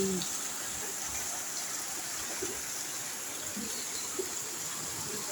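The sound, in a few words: heavy rain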